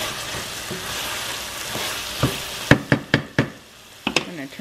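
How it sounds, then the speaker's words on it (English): A chickpea and carrot stew simmers with a soft sizzle as a spoon stirs the pot, then several sharp knocks and scrapes against the pot ring out close by near the end. "I am giving this thing a good stir once in a while, but it's cooking up nicely."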